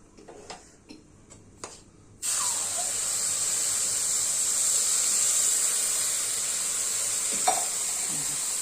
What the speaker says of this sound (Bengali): দিয়ে দিলাম দুধ